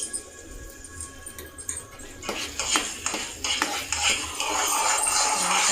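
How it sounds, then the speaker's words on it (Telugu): Apple halwa with ghee stirred in a pan, producing close, steady scraping and clinking of a spoon against metal, growing into a continuous thick stirring sound with faint sizzling and no voices. "మధ్యలో నెయ్యి వేసుకుంటూ మళ్ళీ కలుపుకుంటూ ఉంటే చాలా బాగుంటుంది."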